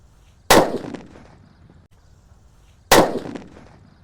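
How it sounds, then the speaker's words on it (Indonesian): Two separate sharp bangs from a brown Boss firecracker (mercon), each a loud crack with a short decaying tail, about two and a half seconds apart, no voices. "Lanjut yang kita nyalakan di sini ada mercon Boss warnanya coklat guys."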